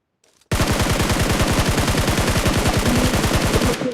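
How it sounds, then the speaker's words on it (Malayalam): Sustained, loud automatic gunfire in a video game starts abruptly after a brief silence and keeps up as one rapid, even burst of closely spaced shots, close and with no talk over it. "ഫയർ. സ്പൈയോപ്പിയുടെ ഫയർ."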